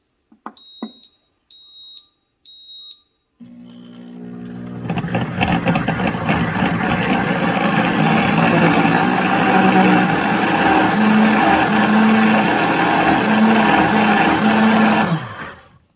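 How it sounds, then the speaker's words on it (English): A few short beeps and clicks from a kitchen blender's control panel, then its motor starts and grinds roasted red peppers in a loud, steady whir for about eleven seconds before cutting off abruptly. "We're going to turn it on grind to start with, just for a second, just to grind up the roasted red peppers"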